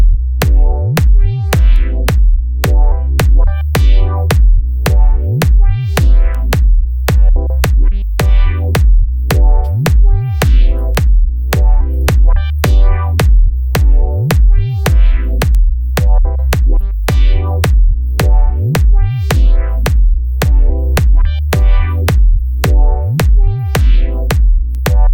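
Mono sub bass, punchy kick drums and filtered synth chords play together in a steady looping electronic groove, loud and continuous with a regular pulsing rhythm and no voices.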